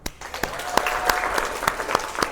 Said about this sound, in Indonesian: Diskusi kita hari ini kita tutup ya dengan tepuk tangan semua.